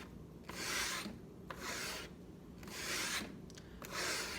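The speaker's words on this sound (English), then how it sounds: "you all can hear the bite of the leather on the steel, especially on the rough edge, rough side of the strop" Steel knife blade drawn along the rough side of a leather barber strop, four broad rasping strokes with short pauses between them, each a soft even scrape, close and fairly quiet.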